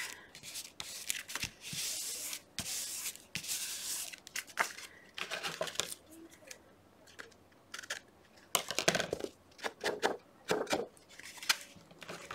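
Scissors snip and rustle paper for a craft calendar journal: irregular bursts of cutting, crinkling and handling of paper pieces close by, with short quiet gaps between actions, no speech.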